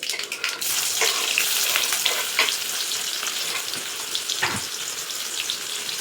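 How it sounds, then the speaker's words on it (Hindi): Onions fry with mustard seeds and cumin in a pressure cooker, a loud dense hiss and crackle that runs continuously and close, broken by a few stirring knocks, with no talking. "अब मैं ये अनियन भी डाल देती हूँ।"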